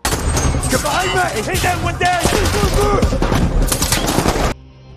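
A film gunfight between a cartel group and others bursts with rapid volleys of gunfire mixed with shouting voices, loud and dense throughout before cutting off abruptly.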